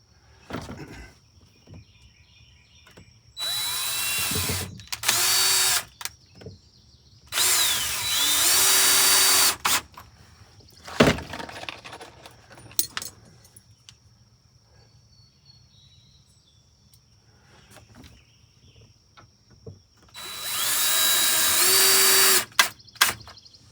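A power drill drives short coarse-thread screws without pilot holes during a Toyota Sienna camping conversion, with several loud whirring runs of a few seconds each, separated by quieter handling clicks and knocks, no talking.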